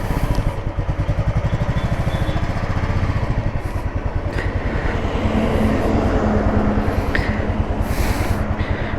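Royal Enfield Classic with a UCE engine idles nearby, a loud, steady single-cylinder thump with an even rhythm and no tappet clatter, running alone throughout.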